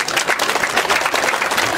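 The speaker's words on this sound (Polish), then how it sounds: "Jeszcze raz wielkie brawa dla młodych," A crowd at a village Children's Day event applauds young performers, with continuous dense clapping that is loud and close for the whole short stretch.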